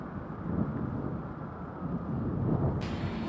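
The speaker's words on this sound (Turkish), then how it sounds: "Biraz da rüzgar çıktı." Wind blowing outdoors near a caravan during a holiday trip, a steady broadband rush with gusty swells and no voices.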